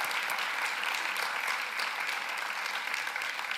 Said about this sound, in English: Let's give Luke a round of applause.